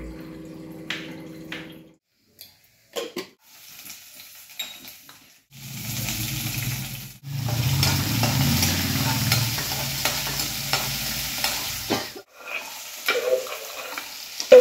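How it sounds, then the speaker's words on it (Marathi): Chopped garlic and green chillies fry in a hot cumin-mustard tempering before okra is added; after quiet spoon clinks, a loud sizzle bursts out, settles into steady frying with stirring scrapes, then fades into occasional clatter. "हे सगळं मिश्रण चांगलं तळून घ्यायचं आहे, चांगली फोडणी त्याला बसली पाहिजे"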